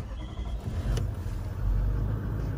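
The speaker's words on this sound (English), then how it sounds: "Let's give a car a quick start now." A 2018 Toyota Landcruiser Sahara engine turns over with a short whoosh-like burst, then settles into a steady, fairly loud idle rumble heard from close by, with no talking.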